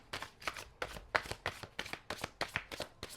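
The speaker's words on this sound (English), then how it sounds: "let me shuffle" Tarot cards are shuffled close by in a quick, even run of about a dozen crisp riffling flicks, quiet and without voices.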